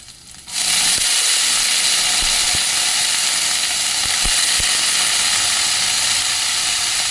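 Taro stems hit hot oil in a pan with a sudden loud sizzle that settles into a continuous frying hiss, broken by a few sharp pops and crackles.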